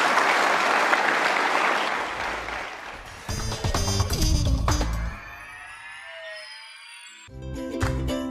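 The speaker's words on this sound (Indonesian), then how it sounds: "Kita kasih tepuk tangan dong untuk Gusmus." Audience applause for the cleric Gus Mus, a dense burst of clapping that fades within a few seconds, followed by other loud noises and tones.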